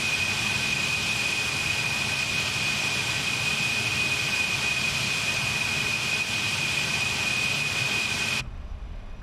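A Concorde's jet engines roar steadily while the airliner taxis along the runway in Flight Simulator 2020, a constant loud whine and rumble with a high tone on top, cutting off abruptly near the end.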